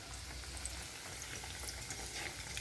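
Tempered dal (phodniche varan) bubbling on the stove, a low, steady simmer threaded with small popping bursts, quiet and close.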